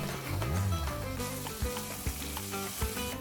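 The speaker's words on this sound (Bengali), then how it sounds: "মশলাগুলোকে একটু ভালো করে নেড়ে চেড়ে কষিয়ে নেব।" Turmeric and Kashmiri chilli powder sizzle in hot oil in a pan while being stirred and fried for dhaba-style paneer masala, a dense close frying hiss with a few sharp scrapes of the spoon against the pan.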